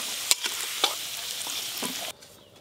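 Potato pieces seasoned with salt and turmeric sizzle steadily in hot oil for fish curry, with a few sharp stirring scrapes near the start before the frying noise cuts off abruptly near the end.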